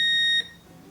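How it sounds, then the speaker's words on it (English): A Whirlpool washing machine with its door locked and an error code showing gives a single bright electronic beep lasting under half a second, then goes quiet. "So we get a beep, same code."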